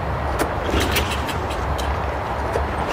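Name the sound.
Toro Recycler 22-inch lawn mower engine firing on carb cleaner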